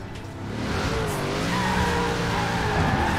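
Ford Ranger Raptor drifting in Forza Horizon 4, its tires skidding and squealing in a long, loud, continuous slide with the engine droning underneath, no talking.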